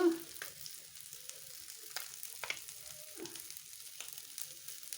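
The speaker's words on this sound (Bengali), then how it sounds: "কয়রা মাছগুলো এখন ভাজা হচ্ছে" Khoira fish frying in oil; a soft, low sizzle with occasional stirring clatter, fairly faint and close, with no voices.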